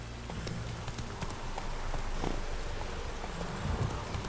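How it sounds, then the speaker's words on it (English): Horse hooves clip-clop at a steady walking rhythm in The Witcher 3 on PS4 Pro, the game's ambient rain pattering underneath, moderately quiet and close. "What is that horse doing?"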